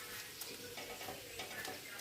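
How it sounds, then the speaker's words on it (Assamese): Potatoes fry in oil that was not yet hot when they went in, giving a steady soft sizzle with occasional stirring scrapes in a home kitchen, fairly faint and with no talking. "আলু ভাজিছোঁ"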